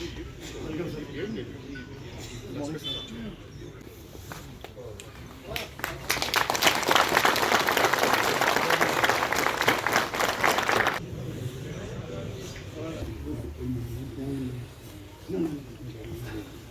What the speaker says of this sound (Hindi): जोरदार ताली से एसएसपी साहब का स्वागत किया जाए